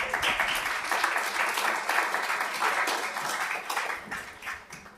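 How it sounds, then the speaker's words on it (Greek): Warm audience applause welcoming a speaker to the podium at a Greek association's event, steady and full throughout, fading slightly at the close. "θα ήθελα πραγματικά ένα θερμό χειροκρότημα για να τη φέρουμε στο βήμα"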